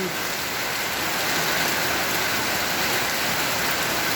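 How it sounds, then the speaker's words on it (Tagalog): Steady, dense rain falls in a hot climate after months of dry weather, a loud continuous hiss of drops on surfaces close by, with no voices. "Sana umulan ka kahit mga isang oras lang."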